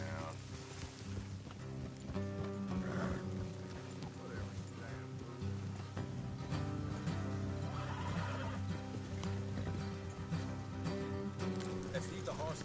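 A horse whinnies in a video game, its neighs rising over a steady bed of game music and ambient sound, with voices briefly audible.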